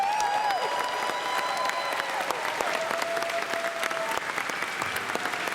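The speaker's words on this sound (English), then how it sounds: "please give another round of applause" Sustained audience applause at a furry convention's closing ceremony in a large hall, steady dense clapping throughout with faint crowd murmur underneath.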